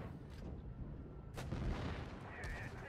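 Tank cannon fire in the mobile game World of Tanks Blitz, with a sharp, loud blast about midway through over a rumbling engine and battle noise bed, followed by lighter impacts near the end.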